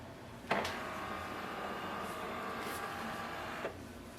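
HP DeskJet 2910 printer finishing its alignment, quiet mechanical whirring of the print carriage bracketed by a soft clunk near the start and another near the end.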